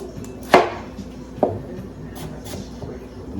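Onions being chopped on a board, two sharp knife strikes followed by a few softer cuts against faint kitchen background noise.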